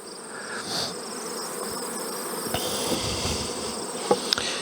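A steady, dense buzzing of many honeybees fills the air close by, with a few sharper passes of individual bees.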